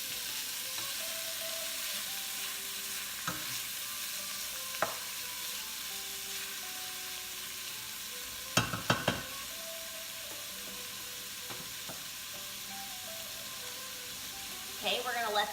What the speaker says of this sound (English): we're gonna let that cook for a little while until it gets brown. I have it on that medium heat here. We just want the sausage to be brown.